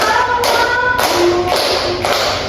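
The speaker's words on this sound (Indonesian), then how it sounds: "Kalian bisa tepuk tangan." Schoolchildren clapping their hands together in a classroom, a run of bright, dense claps close by that come in roughly four bursts about half a second apart, with a sung melody faintly running underneath.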